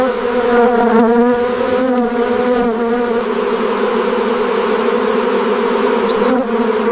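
Honey bees buzz steadily and loudly on an isolated farm kept by an elderly woman, a dense close swarm drone with wavering pitch that holds for the full seven seconds with no voices.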